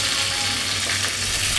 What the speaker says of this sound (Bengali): এরকম করে ভেজে নেবেন